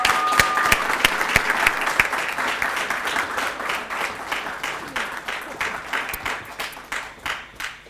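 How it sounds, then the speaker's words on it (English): An audience applauds a graduating 2020 Data Science class at a certificate handover ceremony, dense steady clapping that starts loud and gradually thins toward the end, with a few sharp individual claps up front. "Another round of applause, ladies and gentlemen."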